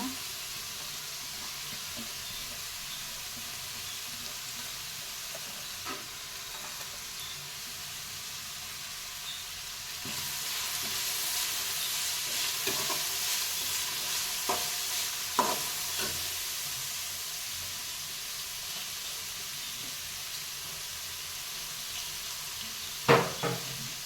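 Capsicum being stirred and tossed in a frying pan for veg fried rice, a soft steady sizzle with occasional scraping clicks and a brief sharp knock near the end, no talking.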